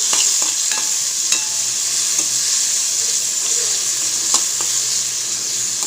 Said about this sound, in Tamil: தக்காளி வந்து நல்லா வதங்கட்டும்.